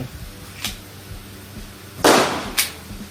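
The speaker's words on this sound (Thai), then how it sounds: "มาลองดูช็อตนะครับปืนเทารัส นะไซส์เล็กๆนะครับ" One loud, sharp shot from a small Taurus G2C pistol cracks out during target shooting, preceded and followed by fainter clicks and pops.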